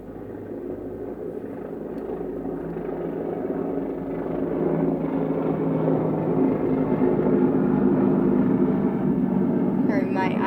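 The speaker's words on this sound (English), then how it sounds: "Here's an airplane going over." Airplane passing overhead outdoors, a broad, distant rumbling drone that slowly swells louder across the stretch while a person talks over it.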